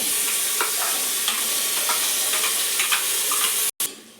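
Onions for a dill pulao fry in hot oil with a steady broadband sizzle, while a spoon stirs them in repeated scraping strokes; the sizzle cuts out briefly near the end and then resumes.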